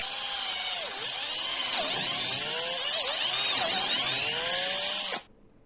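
Power drill boring rivet holes through a Kydex knife sheath, a steady high whine with repeated pitch dips as the bit bites and loads, close and loud throughout before stopping abruptly near the end.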